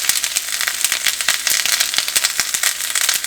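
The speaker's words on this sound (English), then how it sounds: "that grease is popping everywhere" Hot grease popping and crackling in a skillet as chicken pan-fries, a dense, loud run of sharp sizzling snaps layered over a steady hiss, continuous throughout.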